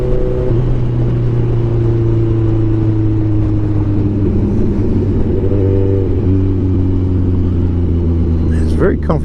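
A 2016 Kawasaki Ninja 1000 motorcycle accelerates close by, its engine note rising and shifting through gears under steady wind roar, with a short burst of noise at the end.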